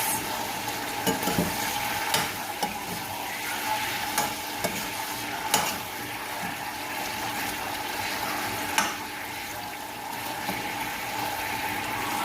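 Chicken pieces sizzle steadily in the fat they have rendered for adobo, a dense, even crackle with occasional louder pops and scrapes of stirring, close and continuous with no talking.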